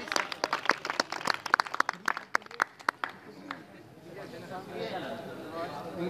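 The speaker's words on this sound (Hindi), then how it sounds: "इनके लिए जोरदार तालियां प्लीज।" Scattered clapping at a school farewell ceremony comes as sharp separate claps for about three seconds, then fades into crowd murmur and talking.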